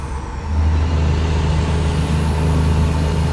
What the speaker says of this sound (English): And that is driving a truck.